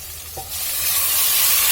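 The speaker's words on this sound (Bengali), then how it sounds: "সর্ষে একটুখানি বাটা ছিল সেটুকু দিয়ে দেবো এবার এর মধ্যে।" Mustard paste goes into fried raw mango in a pan and a sizzle swells up, starting as a soft hiss and rising into a loud, broad, steady frying crackle with no talk.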